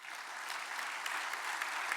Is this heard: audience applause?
yes